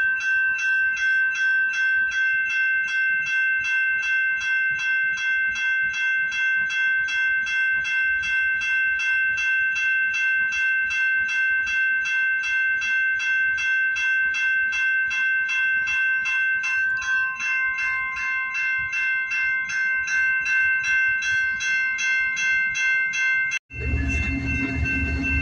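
A CN freight train passes somewhere in Michigan with a steady, sustained metallic drone that holds for most of the span, then cuts abruptly to a wind-buffeted rumble near the end. No one speaks.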